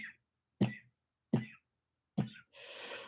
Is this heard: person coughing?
yes